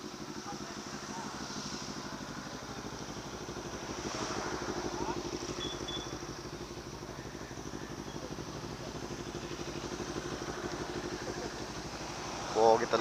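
Motorcycle engines, including a Bajaj RS200, idle with a low, steady rumble and faint clatter, heard from nearby for the whole stretch, with a brief knock near the end.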